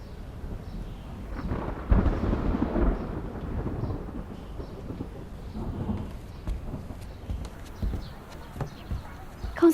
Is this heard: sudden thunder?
yes